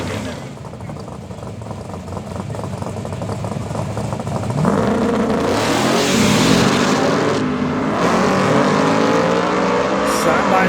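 Drag race cars launch side by side off the starting line in a heads-up 64-car shootout, a roaring surge of revving engines that swells loud and sustained while an announcer talks over it.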